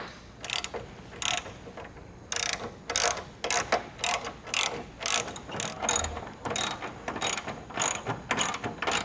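Hardware on a jerry can mount for a 2013 Jeep Wrangler JK being tightened down with a ratchet, giving close, loud bursts of rapid clicking in an uneven rhythm throughout.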